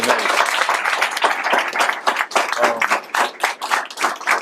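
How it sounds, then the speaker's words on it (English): An audience at a leadership conference applauds together, a loud, dense burst of clapping that carries on steadily for several seconds. "let's give these people a round of applause before we get this Q&A"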